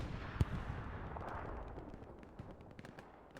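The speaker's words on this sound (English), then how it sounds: "Really close for a machine gun." Faint, distant gunfire and explosions crackle across a war video game battlefield near a trench, with scattered sharp cracks over a low rumbling background.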